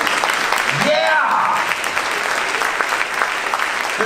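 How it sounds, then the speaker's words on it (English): Audience applause fills the room after a mentalist's stage act, a steady sustained clapping from a live crowd, with a host's voice briefly rising over it at the start. "Let's give both of these wonderful ladies a wonderful round of your applause."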